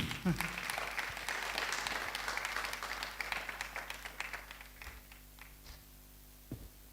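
Symposium audience at an environmental diplomacy event in Nairobi applauds, a dense patter of many hands that thins out into scattered claps and fades toward the end, with a few isolated claps at the close.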